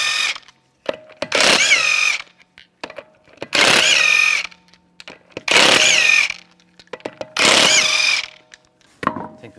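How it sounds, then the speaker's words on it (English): Power impact tool removing lug nuts from a Chevrolet Cruze wheel with a 19mm socket: four loud, rattling bursts of about a second each, separated by short pauses with faint clicks and handling noises, no talking. "Take the lug nuts off."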